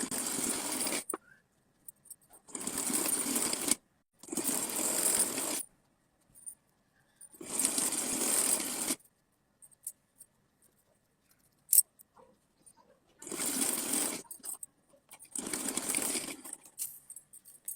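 A domestic sewing machine stitches lace onto a fabric strip for a small deity dress, running in several steady bursts of one to two seconds each, separated by quiet pauses.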